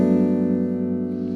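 A clean electric guitar tone, with the volume rolled back and a light Univibe vibrato, rings out as a sustained, gently wavering chord that slowly fades, heard alone without talk.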